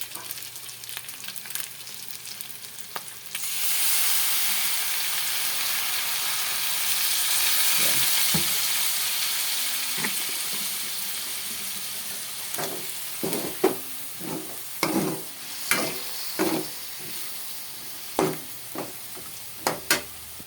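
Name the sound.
soy sauce added to chicken and pork adobo sizzling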